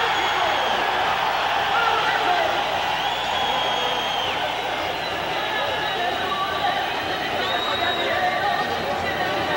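A dense, steady roar of a large crowd of onlookers and well-wishers mobbing Chavez, constant loud babble and shouting throughout with no clear pauses.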